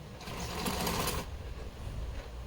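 Close, steady whirring hum of a sewing machine stitching thin lace onto a small doll outfit, running for about a second before it stops and leaves quieter mechanical room noise.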